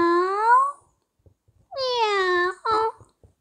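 A person imitates a cat's meow during a storytelling session in a hall, giving two drawn-out, rising-and-falling meows close to the listener with a short pause between them.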